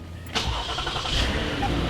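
A Lexus ES350 engine cranks briefly and catches, then settles into a smooth, steady idle that continues close by after the quick start.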